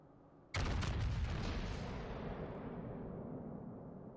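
The Yamato battleship's main guns firing in World of Warships, one loud, deep booming salvo that cracks sharply and then rolls away in a long, slowly fading rumble.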